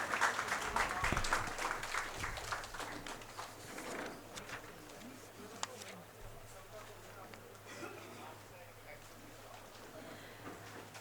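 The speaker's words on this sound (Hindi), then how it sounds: "खड़े होकर तालियों के द्वारा उनका स्वागत करें" Audience applause welcoming a guest speaker, an assistant professor of Rajasthan Sanskrit University, at a culture and values camp; clapping is loudest at the start and gradually thins across the clip, mixed with background voices.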